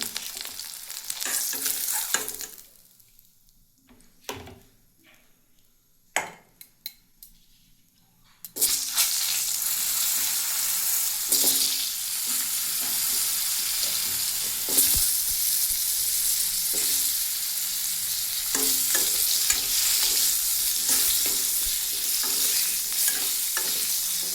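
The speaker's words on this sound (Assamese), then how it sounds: "এইখিনি তেলতে আলুখিনিও ভাজি ল'ম।" Potato pieces fry in the same hot oil left from eggs, with a loud, steady sizzle and repeated scraping, clattering stirs; a short stretch of quieter knocks and handling opens before the frying swells in.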